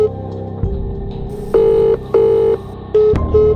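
A telephone number is dialed, with a low hum giving way to a series of about five clear, loud keypad beeps in an uneven rhythm, each lasting around half a second.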